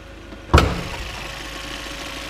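A 2016 Chevrolet Malibu with a 1.5-liter turbo engine catches with a sharp thump, then settles into a steady low idle hum heard close by.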